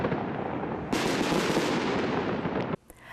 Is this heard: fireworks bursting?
yes